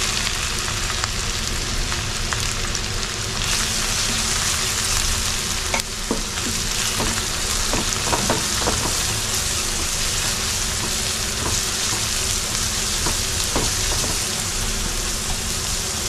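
Crushed ginger and garlic frying in hot oil for prawn pickle, giving a loud, steady, close sizzle with crackling and occasional stirring scrapes throughout, no voices.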